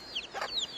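A brief cluck from a chicken, with faint chirpy bird calls around it, heard close and alone at Waimea Valley botanical gardens in Haleiwa, Hawaii.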